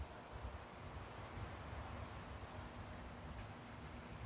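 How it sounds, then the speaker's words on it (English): Steady, low wind buffets the microphone, a soft continuous rumble with gusty flutter and no voices. "yep, really windy like crazy"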